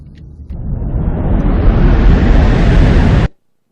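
Machine in The Stanley Parable video game whirring into motion: a loud, dense rumbling roar builds steadily over about three seconds, then cuts off abruptly into silence.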